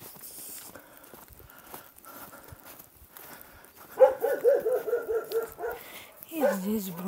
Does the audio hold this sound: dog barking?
yes